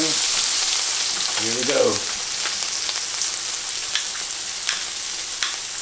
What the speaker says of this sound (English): now we're going to add the cognac, and we'll see, maybe it'll flambe, maybe it won't